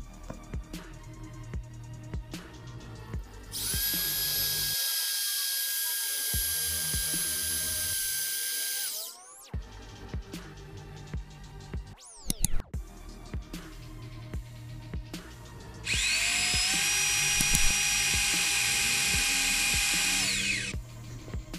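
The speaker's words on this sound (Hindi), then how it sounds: "इसके बाद हम इसको अपनी ड्रिल मशीन से छेद कर देंगे।" A power drill bores holes in a metal satellite dish stand in two long, loud sustained whines, separated by quieter handling clatter, knocks and a brief sharp rattle in between.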